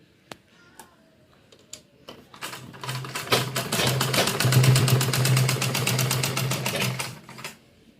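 A sewing machine stitches a fabric vegetable organiser bag: a few isolated clicks, then a loud sustained run of fast, even stitching lasting several seconds before it cuts off.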